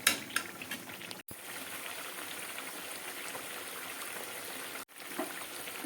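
Katla fish oil fries in a pan over a medium-high gas flame, a steady bubbling sizzle that runs continuously at moderate level, broken by two brief cuts.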